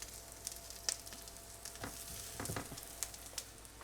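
Maggi veg patties frying in a pan, with quiet oil sizzle and scattered crackles and pops at low level, no voices.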